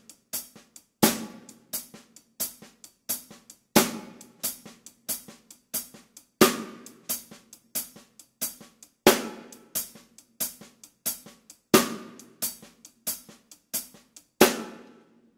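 A drum kit plays a slow half-time shuffle with the middle note of beat three left out, crisp repeating hits and strong accented backbeats in a steady loping rhythm, close and alone.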